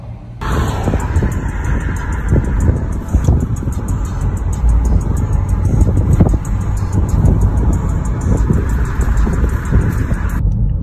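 A car cruising along a road, heard from inside the cabin as a steady rumble of tyres and engine with wind noise and faint rattles, no voices over it.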